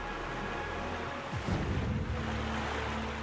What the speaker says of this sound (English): An early farmer discovers that a raging river holds ready-made kinetic energy.